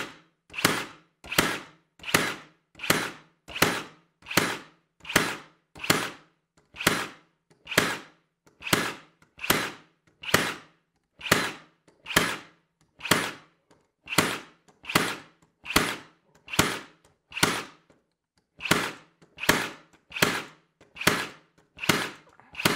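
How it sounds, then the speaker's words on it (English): A Kobalt 24V brad nailer driving nails in bump fire mode, about thirty sharp, evenly spaced pops in a steady fast rhythm, loud and close with no voices. "And now let's change this now to bump fire and see how it goes."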